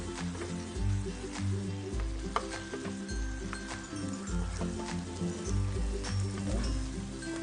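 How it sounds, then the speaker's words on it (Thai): Beef stir-fried with shrimp paste in a hot pan, a continuous loud sizzle broken by regular scraping strokes of a spatula roughly every second and a half. "คั่วให้ตัวกะปิกับต้วจานปี นะครับเข้ากันกับตัวเนื้อนะคร"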